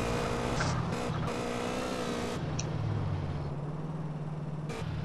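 A car engine drones continuously with shifting revs and gear changes while driving in GTA San Andreas Alien City, with brief tire noises over the steady motor hum.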